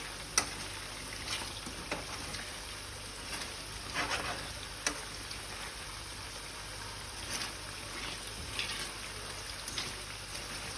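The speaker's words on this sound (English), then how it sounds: "I'm going to give it a nice stir" Food coated in sweet chili sauce stirred in a pan over low heat, with a continuous soft sizzle and scattered clacks and scrapes of the utensil against the pan, close and steady, no talking.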